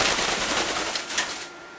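A pet bird flies to a chair, its flapping wings making a dense, fast whooshing flutter close by for over a second before it settles and the sound drops away.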